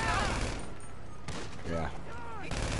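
Video game gunfire during a shootout with police, a few sharp cracks mixed with harmonic whooping effects and a voice, short and busy.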